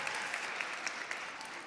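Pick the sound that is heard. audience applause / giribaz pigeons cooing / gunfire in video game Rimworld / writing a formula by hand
audience applause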